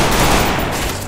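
Shotgun fire in the video game Free Fire: a loud, dense burst of gunfire that runs without a break through a short moment.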